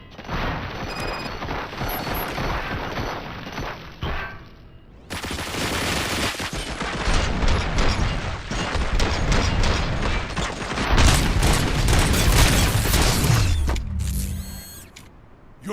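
Rapid automatic gunfire in RoboCop: Rogue City rattles in long dense bursts with heavy impacts and mechanical clatter, loud and close, pausing briefly between volleys and ending in a clanking tail.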